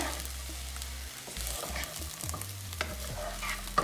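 Sabudana khichdi with cilantro is stirred in a pan over a low flame, with soft scraping and shuffling strokes over a faint sizzle and a low background hum, close and quiet, with nobody talking.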